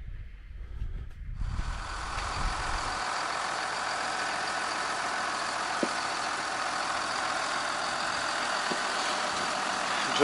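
A John Deere 6170M tractor's heavy diesel engine idles steadily nearby, a constant droning hum after a brief rumble at the start, with no talking.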